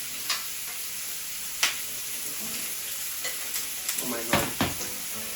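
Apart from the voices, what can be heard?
calamari searing on grill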